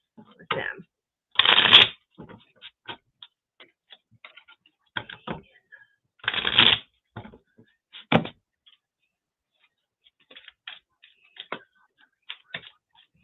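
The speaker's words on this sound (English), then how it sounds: "I'm going to throw some cards." Tarot cards are shuffled close by in several brisk riffling bursts, separated by soft taps and small handling clicks. The surroundings are otherwise quiet.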